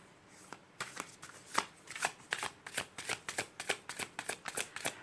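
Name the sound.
shuffling tarot cards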